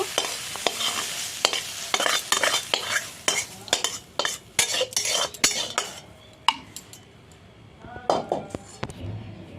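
Green banana peel ground by hand on a stone slab with a stone roller (sil nora): close, uneven scraping and knocking strokes in irregular bursts, with sharper clacks between them and no talking.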